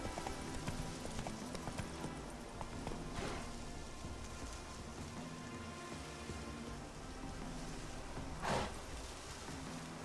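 Geralt's horse Roach in The Witcher 3, hooves clip-clopping at a steady walking rhythm over continuous rain and ambient game sound, moderately close, with a brief louder thud near the end.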